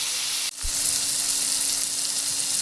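Tomatoes sautéing with salt for chutney sizzle in a continuous loud hiss close to the microphone, with a brief knock near the start.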